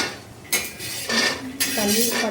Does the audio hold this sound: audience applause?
no